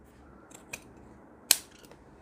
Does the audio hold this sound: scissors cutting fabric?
yes